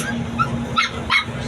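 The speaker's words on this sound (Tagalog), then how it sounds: "Ayun po mga guys, may aso." A dog barks several times in short yips below an elevated spot, partly distant, with a steady hum and faint background voices.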